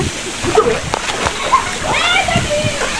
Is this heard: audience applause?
no